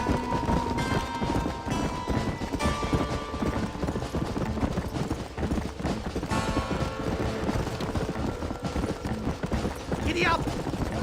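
Galloping hooves clip-clop steadily in Red Dead Redemption, mixed under game music and effects with voices shouting over the ride.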